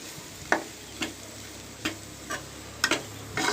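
Green beans frying with chilli spice powder and fresh coconut in a pan: a soft, steady sizzle broken by a few distinct stirring scrapes at irregular intervals, close up with no talk.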